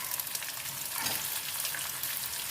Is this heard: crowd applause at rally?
no